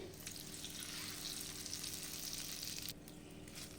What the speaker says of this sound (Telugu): ఈ పోపుని పచ్చడిలోకి వేసుకోవాలి